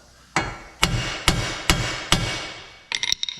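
A castle nut on a front suspension tie rod of a 1993 Lincoln Mark VIII is tapped with a hammer, five sharp evenly spaced metallic blows ringing briefly, then a quick flurry of lighter taps, close up with no speech.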